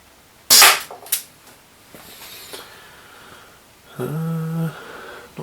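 A Chiappa Rhino 50DS airsoft revolver, fired double action with a 0.3 gram BB, gives one sharp, loud crack. A smaller click follows about half a second later, then low background noise and a brief tonal buzz near the end.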